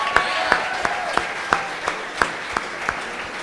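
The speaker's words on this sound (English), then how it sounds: "I think that deserves a round of applause" An audience at a local show applauds steadily, dense clapping with a few sharp louder claps standing out, moderately close and without talk over it.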